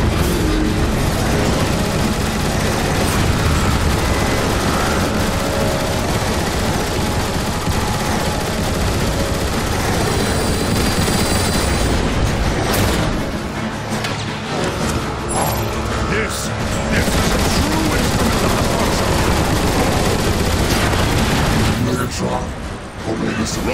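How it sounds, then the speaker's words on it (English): Sustained heavy turret gunfire and blasts roar through a battle in the Transformers: War for Cybertron co-op campaign, dense and loud throughout, with game voices and effects mixed in. "Decepticons, man the turrets and blast that obsolete Hulk out of the sky!"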